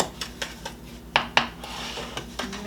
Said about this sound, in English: Mix this all up well.